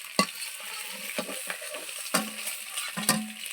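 Eggs fry in an oiled pan with a soft sizzle, broken by several sharp scraping stirs of a utensil against the pan, close and fairly quiet.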